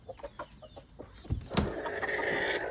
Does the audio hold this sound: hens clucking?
yes